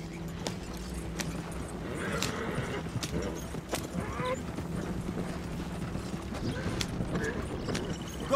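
A horse galloping in Red Dead Redemption, with steady rhythmic hoofbeats and rattling tack close by, broken by occasional sharp clanks and a brief whinny, and a voice calling out over it.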